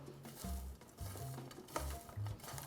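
Sliced onions rubbed by hand with salt, giving soft close rustling and squishing in uneven bursts, quiet and intimate with faint low thumps between the rubs.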